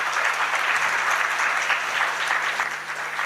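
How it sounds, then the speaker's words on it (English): Steady, dense applause fills a hall at a UN ITU forum session in Tanzania, loud and continuous throughout with no talk over it. "Those are not enough round of applause."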